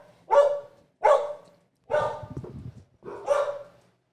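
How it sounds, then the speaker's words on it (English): Dogs barking nearby in four loud, separate woofs spaced about a second apart, one trailing into a rougher growl, with quiet pauses between. "The dogs bark."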